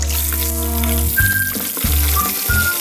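Red snapper sizzles steadily in a hot frying pan, a continuous loud crackling hiss with a few brief scraping pauses as the fish is turned.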